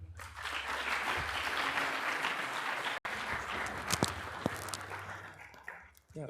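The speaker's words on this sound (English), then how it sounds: "please give a round of applause to Jan" A conference audience breaks into sustained applause for a speaker introducing a talk on dynamically generating schemas, steady clapping that fills the room, briefly cut off near the middle and tapering away at the end.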